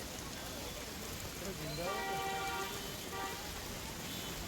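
Heavy monsoon rain pours steadily onto waterlogged, flooded streets in Ajmer, a dense continuous hiss with a vehicle horn tooting briefly in the middle and traffic faintly behind.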